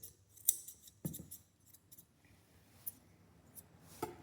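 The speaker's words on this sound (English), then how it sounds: "This is why I use my larger scissors, because they go straight down the leg." Grooming scissors snip through a Yorkiepoo's leg fur, a few sharp close metallic cuts spaced irregularly over a quiet room.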